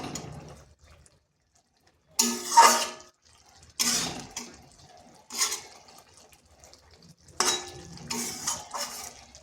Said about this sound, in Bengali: একটু এভাবে হালকা করে নেড়ে দিচ্ছি। এটা একটু সাবধানে নাড়তে হবে